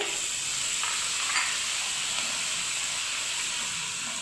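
Grated ginger and green chili frying in hot oil in a pan, a steady, dense sizzle and hiss that holds evenly throughout at close range, with a faint stir or clink partway through and no voices.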